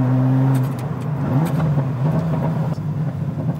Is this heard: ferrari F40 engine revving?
yes